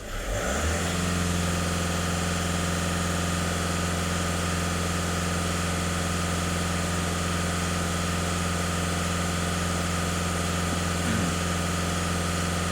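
Skoda Superb 1.6 TDI diesel engine idling with a clogged soot particulate filter, starting up briefly then holding a steady, even hum at close range with no speech.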